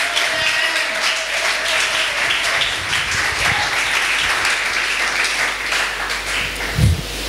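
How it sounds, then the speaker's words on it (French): Church congregation applauding and cheering together, a dense, sustained clapping that holds steady for several seconds with a brief thump near the end, no speech over it. "Est-ce qu'on peut acclamer pour ce miracle?"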